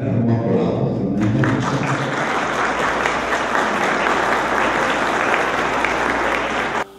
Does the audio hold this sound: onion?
no